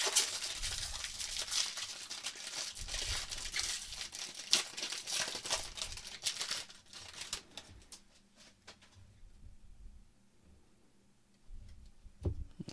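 A pack of 2024 Topps Series 1 baseball cards is torn open and the cards shuffled, giving close crinkling wrapper noise and flicking card sounds that quiet down partway through, ending with a few faint taps.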